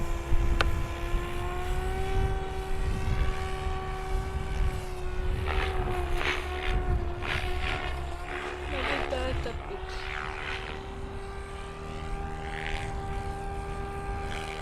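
Radio-controlled model helicopter in flight, its rotor and motor giving a steady high whine with a strong sustained tone that shifts slightly in pitch as it hovers and moves, fairly close and continuous throughout.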